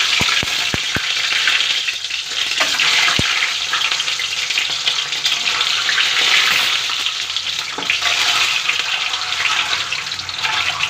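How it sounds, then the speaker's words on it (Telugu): Eggs fry in oil in a pan, a loud, continuous sizzle that crackles steadily throughout, with a few sharp ticks and pops near the start, and no talking. "పెనం పెట్టుకుని ఆయిల్ వేసుకున్నాను గుడ్లు వేసుకుంటున్నాను"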